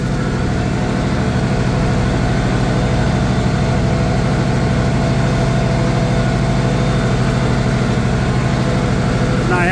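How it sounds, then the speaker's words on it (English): Diesel engine of an International 756 tractor running at low throttle while mowing pasture for hay, a loud continuous rumbling drone with steady pulsing throughout. "then I can run the tractor maybe a little bit faster RPM"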